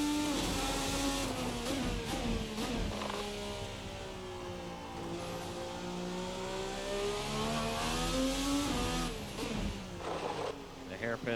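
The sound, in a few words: Formula race car engine revving and braking in Assetto Corsa video game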